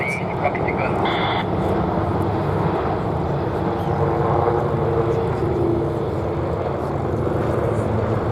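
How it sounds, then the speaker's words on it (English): Army Apache attack helicopters manoeuvring at the Duxford airshow give a continuous distant rotor and engine roar beneath a commentator's voice on a loudspeaker. "The pilots throw the aircraft into a rapid return to target maneuver"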